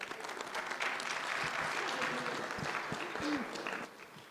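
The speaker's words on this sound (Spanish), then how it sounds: "Un aplauso" Sustained applause from an audience at a political assembly, a dense steady patter of many hands lasting several seconds before tapering slightly at the end.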